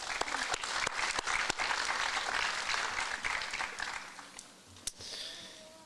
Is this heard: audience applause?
yes